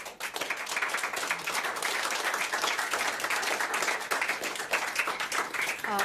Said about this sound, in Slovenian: upam, da jim lahko en aplavz damo za